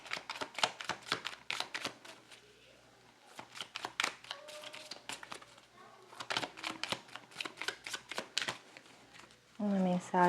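A deck of tarot cards is shuffled by hand in quick, clicky bursts of riffling and slapping, repeated with brief pauses. The sound is close and fairly loud, and a voice comes in briefly near the end.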